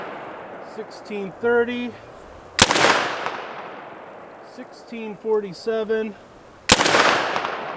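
Two sharp, loud rifle reports from a .50 caliber AR fired over a chronograph outdoors, each a sudden broadband crack with a trailing decay, spaced several seconds apart, with a voice reading out numbers between shots.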